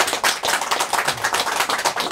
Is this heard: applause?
yes